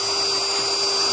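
A steady, high-pitched power tool whine runs without a break, loud and close, with no voices.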